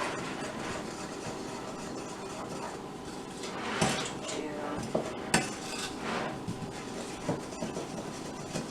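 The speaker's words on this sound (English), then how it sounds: "we're actually going to mix this part up with the spoon instead of the mixer" A spoon scrapes and clinks against a bowl while stirring a cocoa chocolate cookie batter, giving quiet irregular clatter with a few sharper knocks, close by and with no talking.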